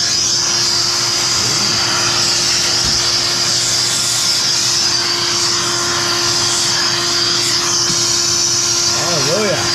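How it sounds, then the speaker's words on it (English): A shop vac runs steadily and loud at close range, a constant roaring whine with a fixed motor hum that holds without a break for the whole stretch. "all we got to do is turn on the shop vac."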